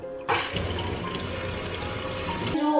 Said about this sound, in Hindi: ये पानी है जो स्प्लैश होकर के आपके बर्तनों पर आता है